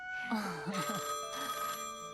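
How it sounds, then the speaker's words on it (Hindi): A telephone rings with a steady bell-like tone through a movie scene set in the Raniganj coal mine area, heard under a voice speaking. "ये लीजिए, साहब का फोन भी आ गया।"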